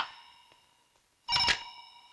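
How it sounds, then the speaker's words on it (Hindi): A telephone rings in a police station, one short electronic burst after a faint earlier tone, fairly quiet and with no voices. "साहब वो शंकर कलाल का ही फोन था"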